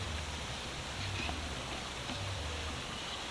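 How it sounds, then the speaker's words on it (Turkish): Steady rain falls during a stop on a long bicycle trip through South America, a dense even hiss with no talk over it. "Oturdum yağmuru seyrediyorum şimdi."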